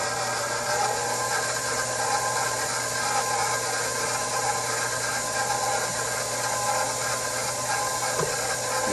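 Stand mixer kneading focaccia dough, a steady continuous motor whir with a dense rough hiss and faint rubbing scrape, loud and unbroken throughout.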